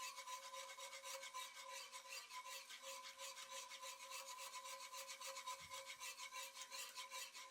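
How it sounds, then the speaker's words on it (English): A whisk beaten fast through a thickening flour sauce in a pot on the stove, giving a steady, rapid rasping scrape that runs continuously and close up with no talk. "Being as fast as we can with the whisk."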